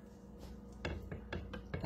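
Metal cutlery clinks as a spoon is pulled from a set of utensils, a few sharp, close, faint taps in quick succession in a quiet room.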